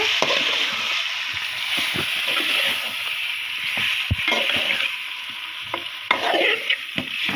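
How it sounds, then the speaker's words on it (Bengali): Chickpea skins are stirred with onions in a frying pan, close up. A spatula scrapes and knocks against the pan over a steady sizzle, with a few sharper taps. "এখন আমরা এটাকে নাড়িয়ে চাড়িয়ে নিচ্ছে।"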